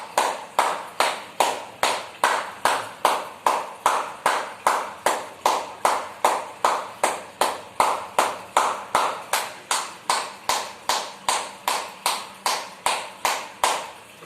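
A single person claps their hands in a steady, even rhythm during a basic stretching exercise, about two sharp claps per second, close and loud, continuing without pause and with no talking.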